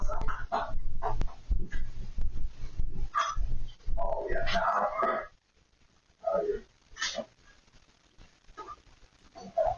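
Dog barking and whimpering behind a basement door, several sharp yips and bursts mixed with whines, fairly close, alternating with quiet gaps.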